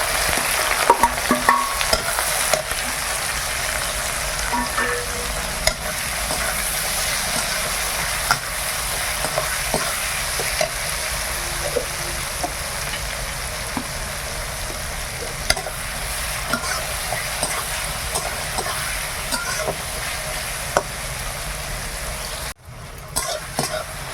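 Onion, green chilli and bay leaves frying in oil with caramelised sugar for a mutton curry, a continuous close sizzle with scattered spatula scrapes and utensil clinks, a brief dip near the end.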